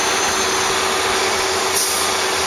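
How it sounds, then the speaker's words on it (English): A concrete pump truck works during a footing pour, giving off a continuous broad mechanical hiss and drone with a steady hum, unbroken and fairly loud throughout. "You can see now the pump's working all the way over on the other end."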